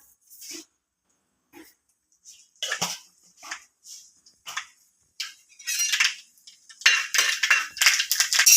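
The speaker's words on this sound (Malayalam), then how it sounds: "നമ്മുടെ കടുവൊക്കെ നന്നായിട്ട് പൊട്ടി വന്നിട്ടുണ്ട്" Mustard seeds pop and crackle in hot oil, scattered sharp bursts at first that grow denser and louder toward the end, close by.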